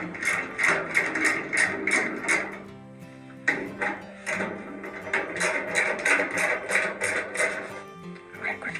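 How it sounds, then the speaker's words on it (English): Ratchet wrench with an 8mm socket turning out screws, a rapid metallic clicking in quick bursts of strokes, pausing briefly near the middle before resuming, close and fairly loud. "So we will go ahead and start unscrewing each one of these with several turns"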